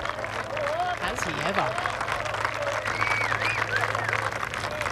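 A golf gallery applauding as a shot lands on the green at a par 5 during The Open, a steady ripple of distant clapping with cheers, heard under a commentator's voice.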